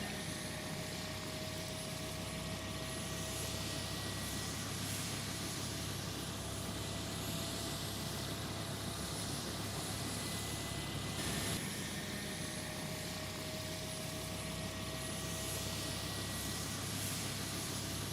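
A propeller airplane flies over Nikumaroro island with its propellers at high RPM and its throttles pulled back to idle. The engine drones steadily and evenly from inside the cabin for the whole stretch, with no talking.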